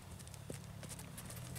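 A black roan horse walks past, its hooves clip-clopping in a quiet, even rhythm at a moderate distance, faint but distinct against a soft outdoor background.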